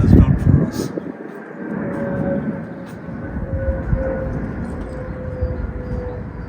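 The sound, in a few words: airplanes taking off from Gatwick airport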